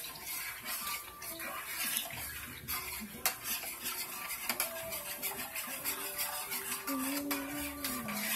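A spoon stirring spaghetti sauce with meatballs in a pot, with clinking against the metal and liquid sloshing as it is mixed, close and steady with a faint voice in the background.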